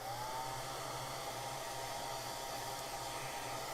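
A hair dryer blows a constant, loud, close whoosh with a steady motor hum, drying a watercolor painting of a bird, with no voices over it.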